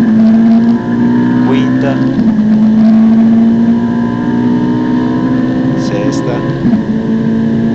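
A Ferrari 458 Italia on the Monza circuit roars at full throttle, its engine note climbing steadily and shifting up through the gears, loud and close, while an instructor's voice calls out gear numbers over it.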